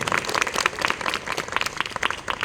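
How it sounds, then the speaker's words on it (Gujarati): Schoolchildren clap for a group during a classroom language game, a brief burst of dense, roomy applause at moderate volume with voices mixed in. "જોરદાર તાળી થઈ જાય"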